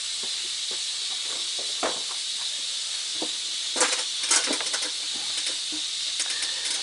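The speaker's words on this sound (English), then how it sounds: "Sorry about that air leaking sound, but my compressor fitting is bad" Air hisses steadily from a bad fitting on a compressor line during a water pump change on a 2015 Dodge Ram 1500 5.7L Hemi, a continuous close leak with a few light clicks and taps on top.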